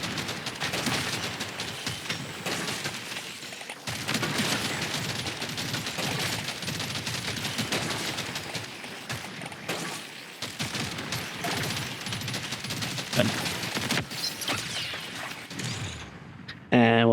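Rapid, continuous gunfire and impacts in Deep Rock Galactic Survivor, a dense mechanical clatter of shotgun blasts running almost unbroken, loud and close, with a brief pause near the start and a game chime at the end.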